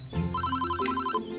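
A telephone ringing indoors with a bright electronic warble, one short ring pattern of rapid pulses, clear and fairly close, without any talk over it.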